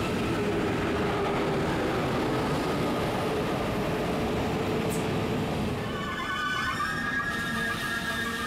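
A double-unit ICE2 high-speed train runs past at Würzburg Hauptbahnhof, heading toward Munich. It gives a steady, broad rumble of rolling wheels throughout, and faint squeals and whines rise in the last few seconds.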